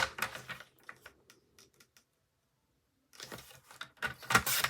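Scissors snip through craft paper in a run of short, crisp cuts, quiet and close, followed by a brief silence before a further burst of snips and rustling.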